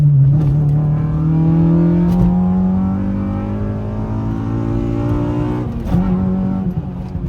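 A car engine pulls hard through a gear, its droning pitch climbing steadily, with a few bumps and rattles from the road, loud and close.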